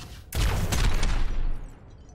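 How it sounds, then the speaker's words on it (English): Helix rockets firing and exploding on targets in the video game Overwatch, a sudden loud burst of blasts after a short quiet lead-in, rumbling heavily before decaying into a fading tail. "Fire your helix rockets at the targets."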